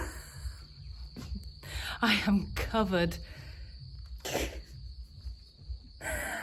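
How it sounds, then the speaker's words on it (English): A steady high-pitched insect drone of crickets and cicadas runs throughout in rural France, faint in the background while a person speaks briefly over it. "Can you hear the crickets? And the cicadas."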